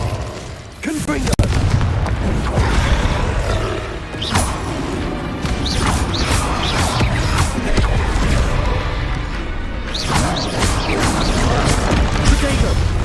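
Confringo blasting spells exploding in the Hogwarts Legacy video game, a run of loud booming blasts and crashes going off repeatedly against busy game sound, with a voice calling out through it.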